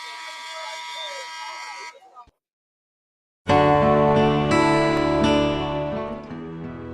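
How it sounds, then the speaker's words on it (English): A loud electronic buzzer at a high school football game sounds at the end of a quarter. It follows a stretch of talk and a brief silence, then holds as a long, steady, harsh tone. "here comes the buzzer"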